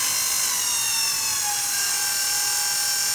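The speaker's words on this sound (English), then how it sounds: "There's no way that a brand new blower should make noise like that." A brand new Regency i1500 stove blower motor with a bad bearing runs with a loud, steady whining drone, high-pitched squealing tones drifting slowly downward over a constant rough hum.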